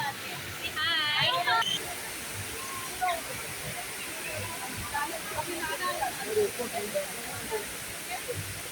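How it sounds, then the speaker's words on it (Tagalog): A steady, rushing hiss of an indoor waterfall at Dubai Mall fills the space continuously, while people talk nearby over the constant wash of falling water. "Yan, pangalawang waterfalls. Pangalawa yan."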